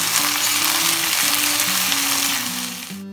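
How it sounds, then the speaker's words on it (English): Chopped okra fries in a pan with spluttered mustard seeds and curry leaves, giving a steady, loud, close sizzle that fades slightly toward the end. "Let it get fried well."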